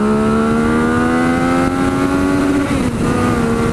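A Yamaha FZ-09 (MT-09) motorcycle engine revs hard and steadily in second gear, its pitch climbing through a sustained high-RPM whine with a brief dip near the end, loud and close.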